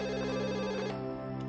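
A telephone rings with a steady electronic ringtone, a sustained tonal ring that drops back briefly near the end, quiet and alone.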